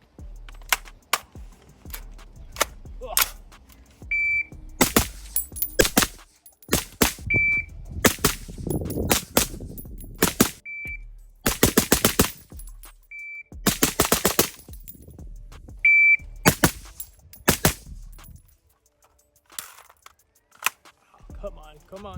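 PSA Sabre AR15 rifle firing in repeated bursts and rapid strings of sharp, loud shots with short pauses between volleys, outdoors, a voice speaking briefly between strings.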